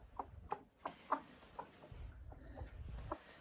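Soft, sparse clucks from two broody hens come in short separate bursts, quiet and close, over a low background rumble.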